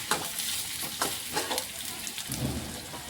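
Onion, green chili and garlic sizzle in a pan for a drumstick-leaf palya while being stirred, with rhythmic scraping strokes roughly every half second over a continuous frying hiss.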